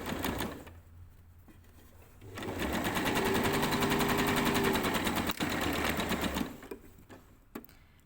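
An electric sewing machine stitches the crotch seam of a pair of summer shorts, running in one steady, fairly loud whirring burst of about four seconds, with quieter pauses before and after and no talking.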